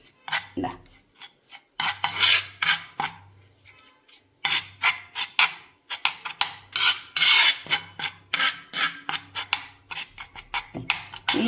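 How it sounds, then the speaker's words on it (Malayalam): A spoon scrapes and stirs a thick homemade hair-dye paste in a bowl, in rapid rhythmic bursts of gritty rasping with short pauses, close and fairly loud, with no talking. "ഒരു ശകലം കൂടെ നമുക്ക് ഒഴിച്ചു കൊടുത്തിട്ട് നന്നായിട്ട് മിക്സ് ചെയ്യാം"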